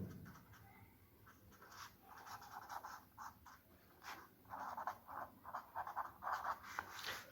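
Pen scratching on paper or a board as a physics formula for phase difference is written out, with short rhythmic strokes and pauses, close and quiet, alone without talk.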